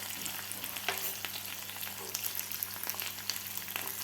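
A tadka tempering for South Indian sambar, with dried red chillies, a little coriander and sambar masala, sizzles steadily in a pan, a close, even crackling hiss over a low hum with a few faint clicks.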